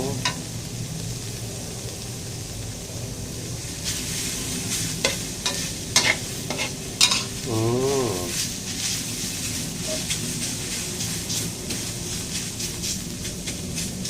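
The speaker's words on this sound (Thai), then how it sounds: "เราแค่น้ำมันกับ กระเทียมแล้วก็ เอาลงหัวเจโป้ไปผัดก่อน" Preserved radish stir-fried with garlic in hot oil in a home kitchen: a steady, close sizzle runs throughout, with sharper scraping and clattering of the spatula against the pan in a burst midway.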